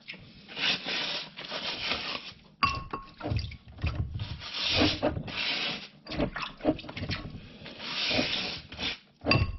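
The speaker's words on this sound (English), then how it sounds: "I've got a little bowl of water and a scrub brush." A scrub brush rubs calcified deposits off a plastic worm bin, dipped in a small bowl of water, making repeated rasping strokes in uneven bursts with short pauses, close and moderately loud.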